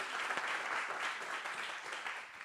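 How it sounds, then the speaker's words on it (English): Audience applause at a session of an interactive digital storytelling conference, a steady dense wash of many hands clapping throughout, moderately loud with no speech over it. "And one more round of applause, please."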